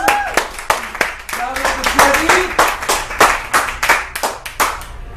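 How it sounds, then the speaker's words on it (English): An audience at a women's group gathering breaks into clapping, a small crowd's individually distinct hand claps in uneven bursts, with voices talking and calling out over it. "Give Debbie a big round of applause."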